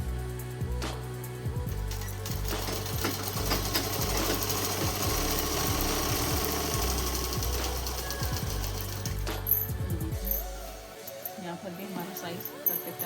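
A sewing machine runs almost continuously while stitching a shalwar, a loud close mechanical drone with rhythmic needle thumps, and a voice talks over it before the machine stops near the end.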